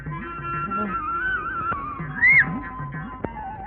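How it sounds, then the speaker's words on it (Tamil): A man whistles in a comedy scene from a Tamil film: short, wavering tonal notes with a quick rising flourish, heard over background music. "என்னடா விசில் அடிக்கிற?"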